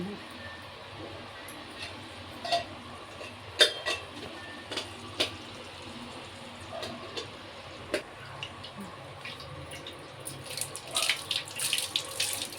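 Kitchen tap water runs steadily while cooking ingredients for an Andhra-style goat head curry are rinsed, with faint clinks and splashes under a voice talking.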